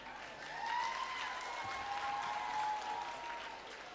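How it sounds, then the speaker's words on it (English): Applause from an audience at a 50th reunion gathering, a steady wash of clapping that holds for the whole few seconds, moderately distant, with no voice over it. "There we go, I hear their applause."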